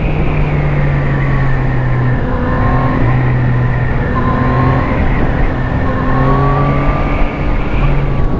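A 2017 Yamaha MT-09 motorcycle engine drones loud and close, its tone climbing and dropping repeatedly as the rider works through revs and gear changes while riding.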